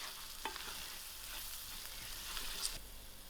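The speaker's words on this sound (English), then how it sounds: "I'll give this masalas a few seconds to fry out." Masala spices fry in a pot for a curry, a soft continuous sizzle heard up close with a few light stirring scrapes and taps, fairly quiet and with no one speaking.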